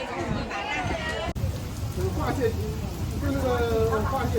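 Heavy rain pouring in a Beijing street, a steady hiss of downpour on surfaces with people's voices and a crowd murmur mixed in close by.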